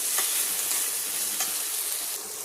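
Potatoes frying in oil in an appe pan, a steady close sizzle with a few soft stirring scrapes, quiet and with no talking.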